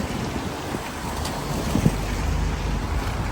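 Strong wind blows outdoors in Harrogate, England, buffeting the microphone as a steady roaring rush with gusty swells for a few seconds, with no voices.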